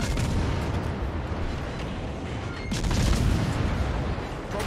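Naval cannon fire in a warship video game, a loud, rumbling barrage of booming blasts that blur into one continuous roar, with a fresh heavy salvo striking partway through.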